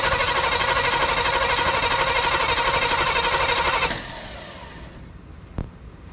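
A 1970 Oldsmobile Cutlass found in a barn after twelve years cranks loudly and continuously on a newly fitted battery without firing, then cuts off to a quiet hum with one brief knock.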